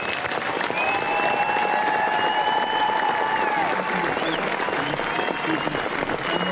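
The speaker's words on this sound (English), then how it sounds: "let's show them how we feel about them with another round of heartfelt applause" Heartfelt applause from a ceremony audience honoring returning service members, a dense sustained wash of clapping throughout with some crowd voices mixed in.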